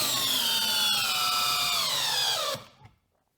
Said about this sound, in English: Next up, the DCD 996 20 volt hammer drill.